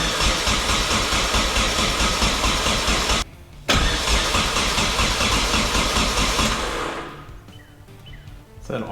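A Datsun 510 wagon with a KA24DET engine cranks on the starter, a loud, steady, rhythmic churning that pauses briefly, resumes, then winds down and stops without firing.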